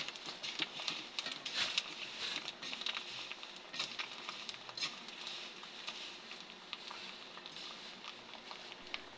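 Rice papad frying a few at a time in hot oil gives a continuous light crackling and popping, moderately quiet and steady with small irregular bursts throughout.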